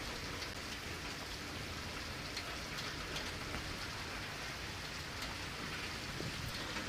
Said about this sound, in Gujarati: બાબરા શહેરમાં આજે ત્રીજા દિવસે વરસાદ યથાવત છે।